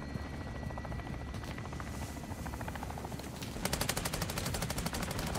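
A helicopter in the video game Modern Warfare 2 thumps with rapid rotor beats during a night fight. Bursts of gunfire rattle alongside it, and the rotor pulses grow louder and sharper toward the end.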